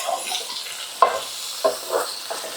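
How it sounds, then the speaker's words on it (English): Alabama goulash stirred in a pot, a soft sizzle with several distinct spoon scrapes and stirring swishes at uneven intervals, close and moderately loud. "Oh, stir that around."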